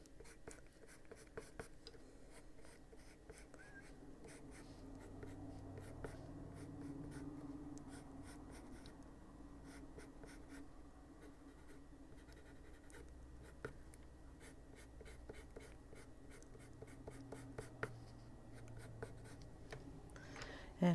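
Colored pencil shading on paper with Luminance pencils while drawing hair, a steady soft scratchy rasp of strokes running continuously at close range, with no talk over it.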